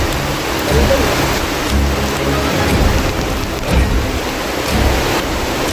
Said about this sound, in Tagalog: Makas talaga ng ulan.